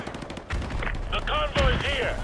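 Rapid gunfire in a Call of Duty Modern Warfare 2 campaign firefight, a quick burst of shots with whizzing, ricocheting tones layered over a low rumble, close and fairly loud.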